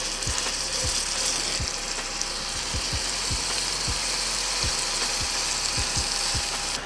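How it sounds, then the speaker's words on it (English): Steaks in avocado oil in a hot cast iron skillet give a loud, steady sizzle. Irregular low pops and thumps run through it, with no talking. "You're gonna place those steaks right on in there."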